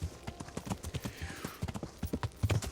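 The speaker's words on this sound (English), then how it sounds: "The knight's on a horse." Horse hooves clip-clop steadily on hard ground in the medieval game Kingdom Come: Deliverance, a brisk, even rhythm of many close, distinct hoofbeats with a faint whinny-like tone partway through.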